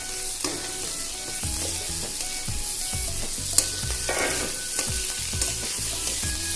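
Pointed gourd sizzles steadily with onions in a hot pan while a spatula scrapes and stirs in a repeated rhythm, with an occasional sharp tap.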